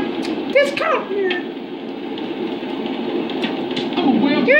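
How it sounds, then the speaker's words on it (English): A driverless tram rolls through San Fierro in GTA San Andreas, its steady rumble and wheel clatter running throughout while someone talks over it, with a few sharp squeals and clunks. "There's nobody driving this tram. It's just driving by itself."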